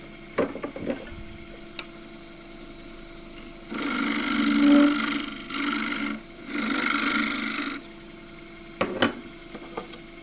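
Smoothing a Tasmanian blackwood bowl on a wood lathe: a few light taps, then about four seconds of loud, steady rasping in three close bursts with brief gaps, followed by more scattered taps.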